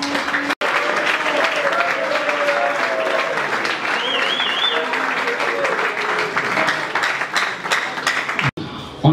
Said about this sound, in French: j'invite la salle à se tenir debout pour acclamer pour ces combattants